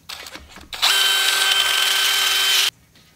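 A power drill runs at wide open throttle with a very light cut while a cylinder-head stud upgrade fixture is installed on an LS engine. A steady high whine lasts about two seconds, then stops abruptly.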